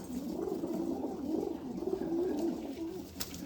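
Golden-eyed pigeons coo close by in a soft, continuous warbling murmur, the throaty notes rising and falling without pause against a quiet background.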